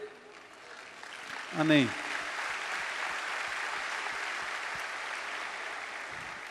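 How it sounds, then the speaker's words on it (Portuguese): A church congregation applauds during a sermon, steady moderate clapping from many people that rises after a brief spoken word and continues evenly, filling the hall for several seconds. "esses aplausos não são para mim"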